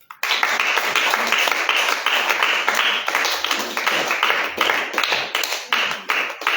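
A church congregation claps steadily in rhythm while acclaiming the Lord, dense and continuous from start to finish, with some voices mixed in.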